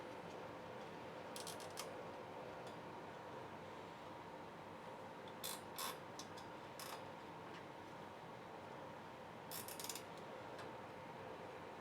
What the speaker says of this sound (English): now that you have all the 4 points together, then you can start to tighten up